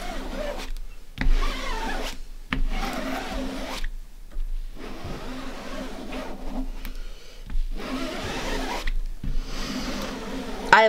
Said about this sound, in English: I'm gonna just drag my squeegee down my design and do a couple of passes